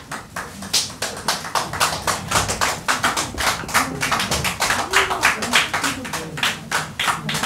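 A church congregation at a pastor's ordination ceremony claps steadily, many hands producing a dense, rhythmic patter of sharp slaps that runs without pause throughout.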